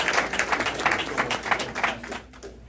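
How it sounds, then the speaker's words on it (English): A short burst of audience applause during a growth mindset talk, fairly close and loud, with quick uneven clapping that thins and fades out near the end. "one more round of applause"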